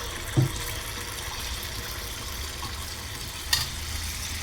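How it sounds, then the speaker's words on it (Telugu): Wheat flour batter frying in hot oil, a steady, rushing hiss of bubbling oil, close and even, broken by two brief sharp clinks. "ఇప్పుడు ఆయిల్ వేడైంది. ఇప్పుడు మనం పిండి వేసుకుందాం."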